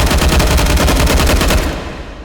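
A light support machine gun fires a rapid, loud, evenly spaced burst of about fifteen close shots in H3VR, ending abruptly with a short echoing decay.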